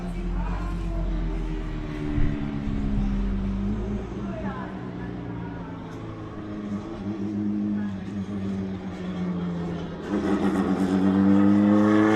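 Cars driving at the Mandalika race circuit on Lombok give a steady engine drone that swells louder near the end, with some voices present over the traffic.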